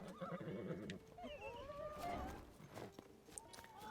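A horse whinnies in Zelda: Tears of the Kingdom, a shrill rising-and-falling call near the middle, over game music and hoof clatter, with a voice talking briefly.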